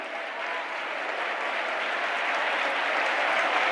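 A worship congregation claps hands steadily and continuously, a dense, loud wash of applause filling the whole stretch with no pauses.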